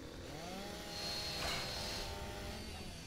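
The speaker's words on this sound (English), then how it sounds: "Apparently this chainsaw is like fucking indestructible and cuts through that." A chainsaw from the video game Gears of War 2 cuts through an obstacle, a faint droning buzz with a brief swelling burst midway, heard alone without talk.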